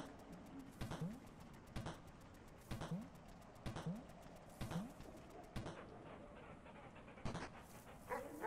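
Repeated short dog barks and yelps from the Animal Well video game, about eight sharp calls spaced roughly a second apart over a quiet, airy background with no speech.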